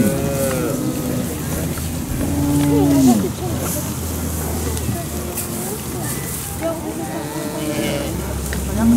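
Cattle on a ranch moo repeatedly, several long drawn-out calls from different animals, loud and fairly close, overlapping with people talking nearby.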